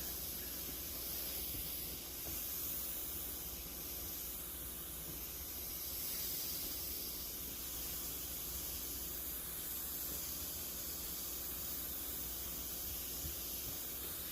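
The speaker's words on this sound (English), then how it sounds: "So what the steam does is it loosens up the fabric, so it allows it to be movable." Hot steam hisses steadily from a clothes steamer onto a fabric fedora hat, a continuous broad airy spray with no talking over it.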